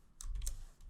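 A computer keyboard clicks with a few quick keystrokes in two short close bursts, typed at a desk during Electron.js and React.js development.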